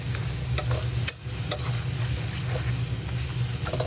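Mulberry shoot tips with their flowers stir-fried in a pan: a steady close sizzle runs throughout, with scattered scraping clicks from stirring and a brief dip just after the first second.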